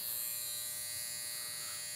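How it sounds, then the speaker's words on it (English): An electric hair trimmer buzzes steadily and quietly at close range as it cuts hair over a comb in a barbershop, with no talking. "I'm actually gonna switch to trimmer over comb."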